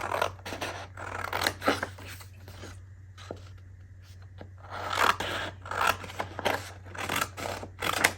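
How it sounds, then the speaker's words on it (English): Scissors snip through printed paper in quick bursts of close, crisp cuts, with a short quieter pause in the middle before more rapid snipping resumes over a low steady hum. "So I think we're going to cut this out."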